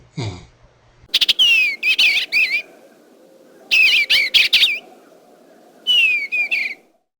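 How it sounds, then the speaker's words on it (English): Loud, close birds chirping in bright whistled bursts, three clusters of quick notes separated by pauses over a faint background hiss. "sometimes you could hear the birds."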